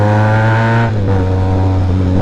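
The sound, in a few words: motorcycle engine revving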